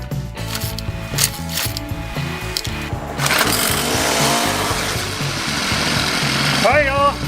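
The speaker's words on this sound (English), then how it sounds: "let's pull the trigger here and see if it'll crank" A Troy-Bilt gas engine with a newly replaced fuel line cranks with a rapid mechanical ratcheting, then catches and runs with a loud steady drone. A brief squeal comes near the end.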